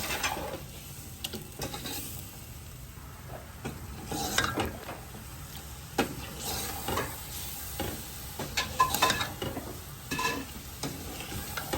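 Spices and yogurt for badami korma fry in a pot with a steady sizzle, and a spoon scrapes and knocks against the metal in irregular strokes, close up and with no voices.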